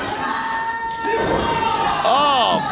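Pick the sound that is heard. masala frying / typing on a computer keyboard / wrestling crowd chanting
wrestling crowd chanting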